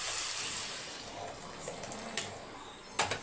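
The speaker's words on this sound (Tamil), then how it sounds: "இப்போ பருப்பு தண்ணி மட்டும் ஊற்றி," Lentil cooking water is poured into a pot of sambar with pumpkin and tomato, a soft, steady watery rush lasting a few seconds with a couple of faint splashes near the end.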